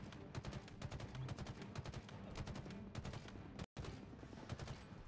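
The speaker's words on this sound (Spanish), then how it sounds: "Aplicamos la vieja confiable de los disparos a la cabeza." Rapid gunfire in Halo Infinite on Heroic difficulty: dense, continuous bursts of shots rattle for several seconds, broken by one brief silent gap, loud and close.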